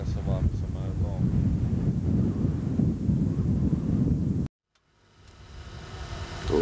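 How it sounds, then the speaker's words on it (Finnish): Strong outdoor wind buffets the microphone in a loud, steady roar for about four and a half seconds, then cuts out abruptly and gradually builds back up. "Mutta hyvin tässä tuulee tässä vaan, missä mä nyt oon."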